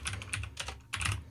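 Quick clicking keystrokes on a computer keyboard come in a rapid, uneven patter, close and clear with no talk over them.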